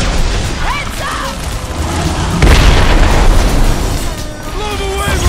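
A heavy explosion in Marvel's Guardians of the Galaxy bursts out midway, a loud booming blast with rumbling debris that fades slowly, amid combat noise and shouted voices.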